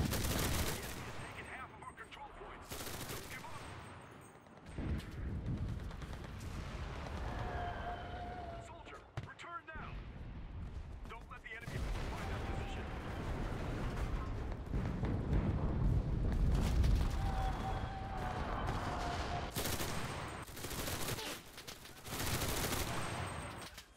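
Gunfire fills a paratrooper battle in the World War II shooter Enlisted, with bursts of shots, rumbling blasts and battlefield noise running continuously, fairly quiet overall, while a player talks excitedly over it.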